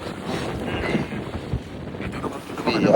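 Outdoor wind buffets the microphone in a continuous low, rumbling roar with uneven gusts, rising louder toward the end, with no clear talk over it.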